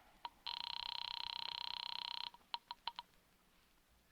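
An old-style telephone bell rings in one long buzzing burst, then several short rings follow before it stops; no talking.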